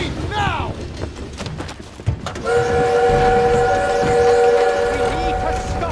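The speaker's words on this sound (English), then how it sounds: "We need to stop that train!" A train in Call of Duty WWII rumbles loudly, and a long, sustained horn blast starts midway through. Brief voices and clattering action sounds come first.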